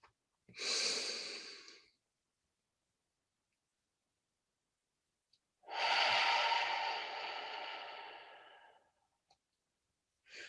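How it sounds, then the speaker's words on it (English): Two long audible exhalations through the mouth during a guided breathing exercise in a meditation workshop, each lasting a couple of seconds and separated by silence, with the second breath longer and louder. "Exhaling through the mouth."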